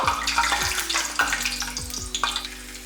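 Cinnamon sticks and star anise fry in hot oil in a pot as the base of a biryani. A lively crackling sizzle is cut by repeated spoon-scraping strokes at a steady pace.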